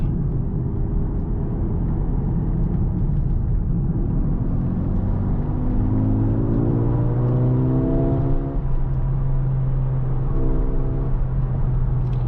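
A Mercedes-AMG GT63 in Sport Plus mode accelerates, its engine note climbing steadily in pitch through a long pull and then settling, loud and continuous throughout, with no talking.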